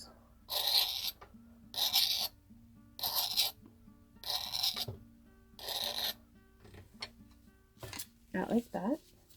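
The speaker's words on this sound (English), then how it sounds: "I'm going to just scrape little squiggles" An awl scraping little squiggles into the surface of a UV resin pendant, five steady rasping strokes in an even rhythm, close and fairly loud, followed by a couple of quicker scratches.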